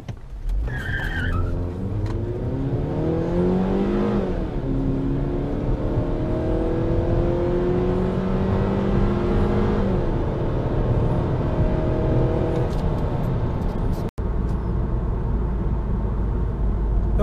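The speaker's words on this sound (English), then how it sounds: "there was your 0 to 60 run. I actually broke the tires loose a little bit." A high-mileage 2007 Mazda3 engine revs hard in a 0-60 run, climbing through several gears with rising whine, tires briefly chirping at the launch, loud and close throughout.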